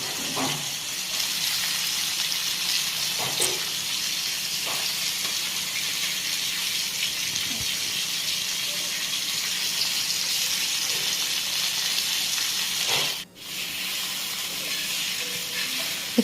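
Pomfret fish frying on a griddle, a steady loud sizzle with a constant broad hiss that runs unbroken for the whole stretch apart from one brief dip near the end.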